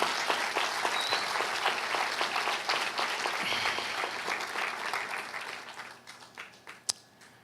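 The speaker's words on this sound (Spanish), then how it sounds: "Si le va a dar un aplauso a Dios, déselo fuerte" A church congregation claps loudly for God during a Spanish-language sermon, a dense, sustained burst of applause that thins and fades toward the end, with one sharp final clap.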